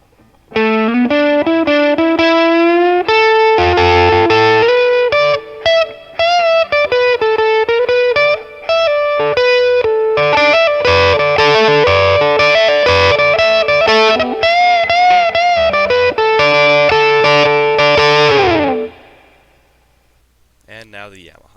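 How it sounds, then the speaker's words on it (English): An electric guitar driven through a tube amplifier with heavy distortion plays loud, sustained bends and chords with singing harmonics, then cuts off and fades to near silence at the end. "Right, let's hear some of that tube distortion."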